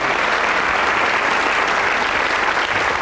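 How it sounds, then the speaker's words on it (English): Studio audience applause on the 1989 UK TV game show The Pyramid Game, a loud, dense, continuous roar of many hands clapping that holds steady throughout without talk. "Give him a round of applause, ladies and gentlemen."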